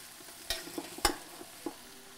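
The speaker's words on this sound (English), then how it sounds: "So here we have our cauliflower and olive oil over a high heat, and we're gonna saute this for 3 to 4 minutes." Cauliflower sautés in olive oil over high heat in a pan, a soft steady sizzle broken by a few sharp clinks and scrapes as the pieces are stirred, fairly quiet with no talking.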